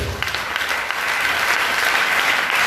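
A church congregation at a Sunday service applauds and cheers for the Lord, steady dense clapping from a large crowd filling the room without a break.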